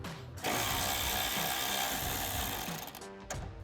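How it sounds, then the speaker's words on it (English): A ratchet wrench with a shallow 10 mm socket loosens bolts on a 2024 Ford Mustang GT's upper grille area. It gives one sustained, loud, close burst of rapid clicking lasting about two and a half seconds, with no talking. "you can get a shallow 10 millimeter socket in there and remove those bolts"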